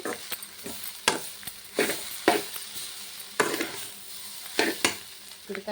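Broad beans and meal maker frying in a pan, with a continuous sizzle under repeated scraping spatula strokes coming at a steady, unhurried rhythm.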